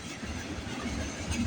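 Freight train CN-M394, led by locomotive 3847, rolls past at night with a continuous low rumble of wheels and cars and no clear pauses.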